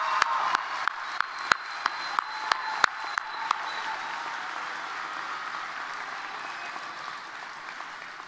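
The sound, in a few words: audience applause for graduates at commencement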